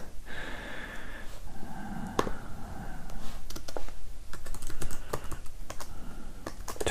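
Fingers type on a computer keyboard in irregular bursts of close, clicky keystrokes, with a soft breath or sniff between runs and a faint hum underneath.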